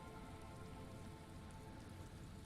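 Steady rain pattering on surfaces in the video game Disco Elysium, a dense, even hiss of drops close by with no voices over it.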